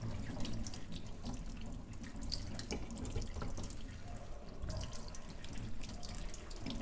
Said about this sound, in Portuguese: Nós vamos, então, agora acrescentar água, né? Que cubra as bananas.